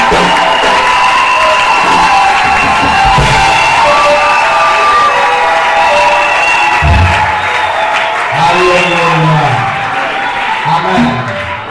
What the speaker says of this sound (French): Maintenant, je voudrais que tu acclames pour le Saint-Esprit.